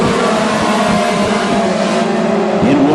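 WISSOTA Mod Four race cars roar around a dirt oval during a heat race, a loud, continuous engine howl with rising and shifting revs as the pack runs down the back stretch.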